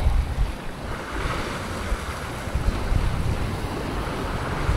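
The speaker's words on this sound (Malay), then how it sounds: "angin pun datang padu. Alun memang tak berhenti-berhenti ya." Sea waves wash continuously under strong, gusting wind on an open-water fishing trip, with rough low rumbles and the wind buffeting the microphone throughout.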